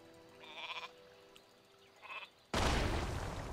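Sheep bleating in the Warcraft 3 Reforged video game, two short harmonic bleats a second or so apart, followed by a sudden loud explosion-like burst that roars on to the end.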